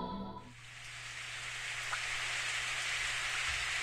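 Evening rain shower in the Steins;Gate visual novel: a steady, dense hiss of raindrops falling on surfaces, building gently and continuing without pause after a brief musical tone at the start.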